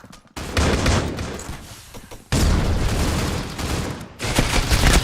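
Rapid automatic gunfire from the video game Valorant rattles in loud, sustained bursts with sharp cutoffs between sprays, dense and close.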